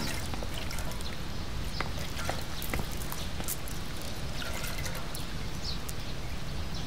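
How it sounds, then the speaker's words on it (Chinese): Steady trickling and splashing water comes from someone washing a sticky cloth soaked in honey by hand. It is a soft, continuous wash of water sound with a few small drips. No one talks. "一块沾了蜂蜜的布黏糊糊的，我给他洗一下"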